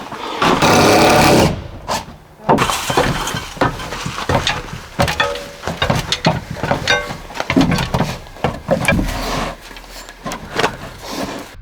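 A power drill buzzes loudly in a burst while building a cabin roof, then clatter, taps and handling noises follow in quick irregular bursts close by.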